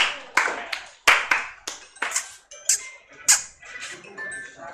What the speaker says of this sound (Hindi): जोरदार ताली इन्वेंशन के लिए.